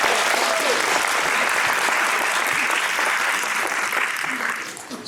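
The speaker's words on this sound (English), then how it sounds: "give a warm round of applause" Audience applause for school Students of the Month in a small-town school district, a steady, even wash of clapping from a large room that tapers off toward the end.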